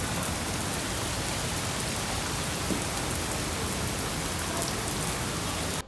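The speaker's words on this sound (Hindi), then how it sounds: "स्टिल बारिश उतनी ही ज़्यादा थी" Heavy rain pours down outdoors in Xinxiang, China, in a dense, unbroken hiss, steady and close throughout with no voices.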